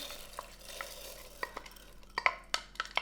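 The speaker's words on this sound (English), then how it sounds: "Once the water's boiling, you can add the lentils, and I'm going to add the lentils right now." Lentils poured into a pan of boiling water, giving light scattered clicks and small splashes that grow busier toward the end over a soft bubbling background.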